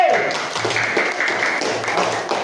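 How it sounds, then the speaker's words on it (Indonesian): Schoolchildren in a classroom clap for a group of classmates, a short burst of close, lively hand claps with a few brief voices mixed in. "Tepuk tangan dulu untuk kelompok C"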